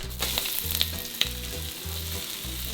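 Onions frying in a hot pan with steady, loud sizzling throughout, broken by occasional clicks and scrapes of stirring.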